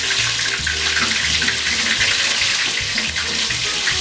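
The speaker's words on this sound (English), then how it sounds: "Let me rinse my hands off." Water runs steadily from a kitchen tap as hands are rinsed during tempura shrimp cooking, a continuous close hiss with slight splashing changes throughout.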